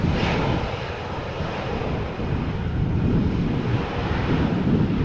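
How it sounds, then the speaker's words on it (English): A Transavia Boeing 737 airliner arrives at Amsterdam Schiphol Airport in crosswind, a steady, loud jet roar lasting throughout with wind buffeting the microphone. "Transavia B773 coming in."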